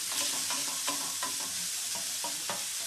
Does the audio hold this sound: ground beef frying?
yes